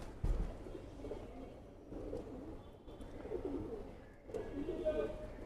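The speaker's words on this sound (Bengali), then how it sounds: "খুবই সুন্দর কবুতরটা" Pigeons coo softly and repeatedly inside a pigeon loft, a low rolling murmur that continues throughout with faint background activity.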